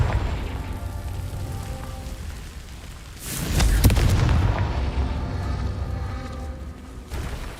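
A Confringo fire spell bursts in the Hogwarts Legacy video game, a sudden loud booming blast midway that decays into crackling rumble, followed by a smaller thump near the end over a steady game ambience.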